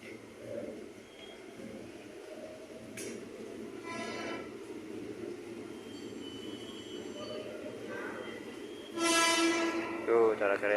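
A Thomas-themed passenger train rolls past with a steady rumble of wheels and squeals, then short horn blasts near the end. Voices talk faintly under the noise.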